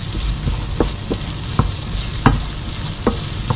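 Cream being stirred into a sizzling pan, with a steady frying hiss throughout and a handful of sharp spoon scrapes and taps against the pan at uneven intervals, close and fairly loud, with no talking.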